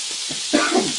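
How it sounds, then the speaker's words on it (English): Meat searing in a hot pan for a five-meat curry casserole, a steady broadband sizzle that swells louder in the second half with bursts of spitting fat. "This is the last of it, so I'm just going to be searing that."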